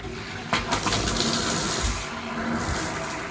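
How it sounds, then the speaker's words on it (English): Water gushes steadily from a bathtub faucet that has been cranked on, a continuous, fairly loud rushing flow with no talking. "crank the tub on."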